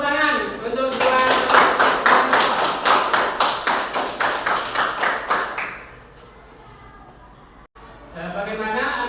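Schoolchildren in a classroom clap together in a rhythmic, chant-like pattern of evenly spaced claps that speeds up, then fades, with voices at the start and end.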